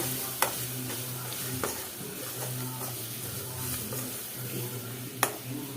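Spices sautéing in oil in a pan for Chettinad yam masiyal, a soft steady sizzle with occasional sharp clinks of a spoon against the pan, fairly quiet and close.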